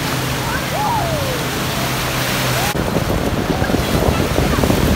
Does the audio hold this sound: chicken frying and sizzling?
no